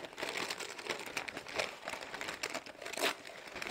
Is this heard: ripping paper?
yes